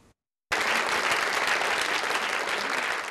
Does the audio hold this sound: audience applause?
yes